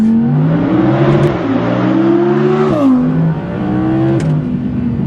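An Audi R8 V10 Performance accelerates hard, its loud engine note climbing in pitch through each gear, then dropping abruptly at several quick upshifts, close and continuous with no talk.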